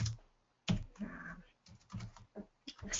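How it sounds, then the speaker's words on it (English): Keys clatter on a computer keyboard in quick irregular bursts of clicks and soft thumps, fairly quiet and close, with short pauses between runs of typing. "oh, my typing is terrible today, as usual"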